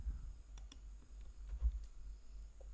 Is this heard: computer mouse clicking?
yes